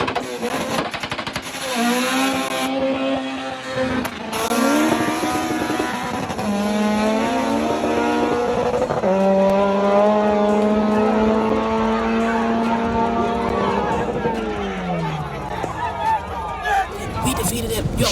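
A front-wheel-drive race car on street tires accelerates down a drag strip, its boosted engine rising in pitch through repeated gear changes for a sustained loud run, with a crowd and people talking underneath.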